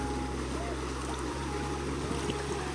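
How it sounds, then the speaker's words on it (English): Wind gusts at Cajon Creek during gold prospecting, a constant low rumble and rushing noise on the microphone that stays close and fairly even. "If this freaking wind would calm down, I'd show you"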